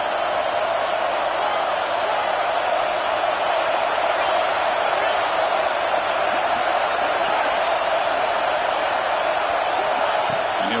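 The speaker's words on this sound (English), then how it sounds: "This crowd is trying to inspire this defense to make a big red zone stop." Football stadium crowd roaring during a red zone defensive stand, a steady, loud, unbroken wall of noise that holds throughout.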